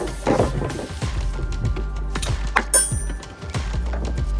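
A ratchet works loose the rear strut bolts on a Mustang during a coilover adjustment, giving close, repeated metallic clicks and knocks in an uneven rhythm over low mechanical rumble.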